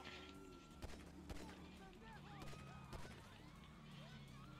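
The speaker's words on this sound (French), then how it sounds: "c'est juste des coups de feu" Faint, scattered gunshots crack every half second or so within a busy GTA V soundscape, with a voice murmuring underneath.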